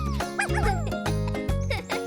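A cartoon puppy barks, yips and whimpers in a quick high-pitched string of yaps with bright cheerful music playing underneath.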